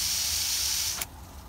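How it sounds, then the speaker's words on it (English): A heavy-duty Melnor metal garden hose nozzle set to a jet shoots water in a loud, steady hiss for about a second, then cuts off abruptly, leaving only faint background. "I'm getting water spraying out here, you know, 15, 20 feet further if I need to"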